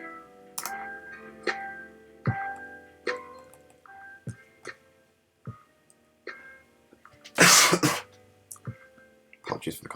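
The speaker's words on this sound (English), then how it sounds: "Apologies for the cough" A single sharp cough bursts out near the end, loud and close, after a stretch of quiet, sparse vocal sounds and light ticks.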